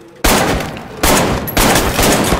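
Three loud gunshots from a gun fitted with a thermal scope in the VR shooter Arktika.1 (Oculus Rift with Touch controllers), each a sharp blast followed by a long ringing tail, spaced about a second apart, with no talking.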